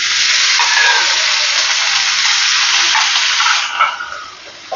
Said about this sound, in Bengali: টু টেবিল স্পুন মতো জল আমি দিয়ে দিলাম।